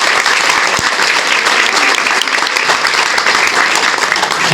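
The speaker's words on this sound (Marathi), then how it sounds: "महाराष्ट्रात सगळ्यांनी एकदा टाळ्या वाजवल्या पाहिजे" Audience applause at a felicitation ceremony for newly elected municipal councillors, loud, dense and continuous clapping from a large crowd close by, with no voices over it.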